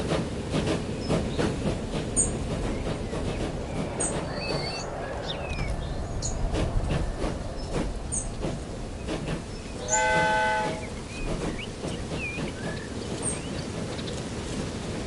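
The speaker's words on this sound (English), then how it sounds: "now we will ride this train all the way from Carson to Reno." A passenger train in the Transport Fever 2 video game rolls along with continuous rumbling and clicking wheels, and a loud horn blast sounds partway through.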